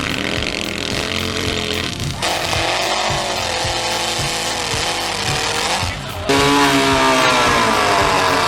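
A forestry firewood processor, the LogMax 6000B with hydraulics and a V8-powered cutting blade, runs loudly and steadily with a harsh engine drone, its pitch rising and surging as the cutting load shifts in two abrupt jumps.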